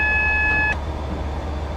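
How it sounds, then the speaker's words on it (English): A steady two-tone electronic beep sounds in a locomotive cab in Train Simulator 2015, a Class 67 on the Riviera Line, over a low engine hum. The beep cuts off abruptly partway through and the hum continues. "So that's what that alarm's for."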